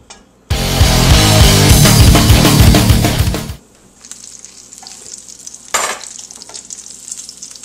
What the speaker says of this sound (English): So you take your breaded fish and set it into the pan.